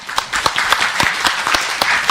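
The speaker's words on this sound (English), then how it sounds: "let's give a loud round of applause to our speakers" Close, loud applause for the speakers at a quantum summit, brisk clapping from many hands with distinct sharp claps standing out throughout.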